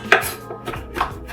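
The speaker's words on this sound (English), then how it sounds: "you want to chop it very, very fine" A knife chops spinach and other greens very finely on a board, with a handful of sharp, separate cuts spaced irregularly, fairly close and clear, with no talk.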